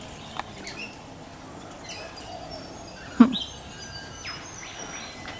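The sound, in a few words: birds chirping at a neighbour's bird bath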